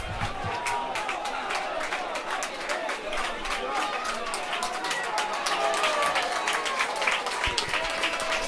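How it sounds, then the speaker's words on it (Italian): Fans of Aragona applaud the footballers after a Promozione Sicilia match: dense, steady clapping from a crowd, heard at a distance with some chatter mixed in, swelling slightly toward the end. "Adesso vengono applauditi i calciatori dell'Aragona e dei loro tifosi."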